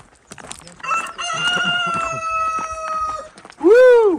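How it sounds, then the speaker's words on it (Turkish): A rooster crows nearby, a long sustained cock-a-doodle-doo followed by a second rising crow at the end, with faint background noise before. "Horoz."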